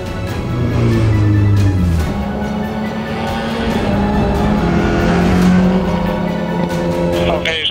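A race car in a TCR Europe race at Circuit Paul Ricard, its engine running loud and close with rising and falling pitch as it shifts gears, and a voice on the radio talking over it.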